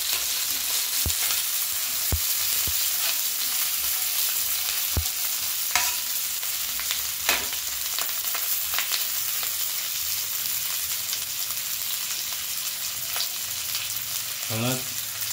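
Onion and green chili fry in a kadhai with a steady, fairly loud sizzle, broken by several clinking spoon knocks and stirring scrapes against the metal pan.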